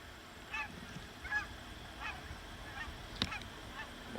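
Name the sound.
geese flying over honking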